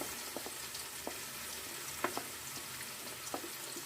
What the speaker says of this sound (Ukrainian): Кидаємо всю цибулю.